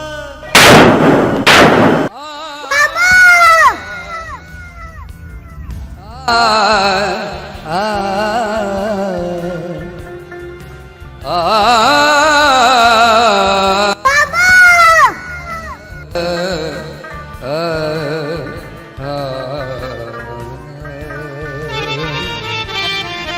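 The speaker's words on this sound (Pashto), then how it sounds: "دا وګورو څومره ډزې کېږي" Sharp bursts of gunfire crack loudly at the start, followed by shouting voices and raised, chant-like calls from a crowd.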